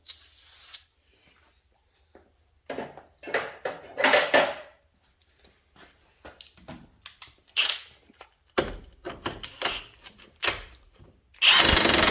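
A power tool runs in several short bursts while tightening the axle nut on a 2011 Ford Transit Connect van during an axle support bearing replacement, with intermittent clanks and tool handling between the bursts, close and fairly loud.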